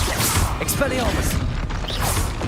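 A spell burst in Hogwarts Legacy: quick whooshing swishes and crashing impacts in rapid succession, loud and close, with a voice speaking over the effects.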